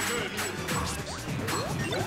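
Smash attacks landing in a Super Smash Bros. Brawl match, several sharp crashing hits with whooshes and game effects over dense background noise, loud and close.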